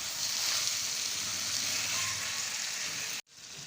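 Softened potato and cauliflower roast in a pan, a steady, even hiss of frying held at moderate volume for about three seconds before cutting off abruptly.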